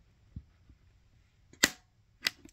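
Footswitch on a DI pedal for bass guitar on a small bass pedalboard, a few faint isolated clicks and thumps, the loudest a sharp snap near the middle, with quiet room noise between.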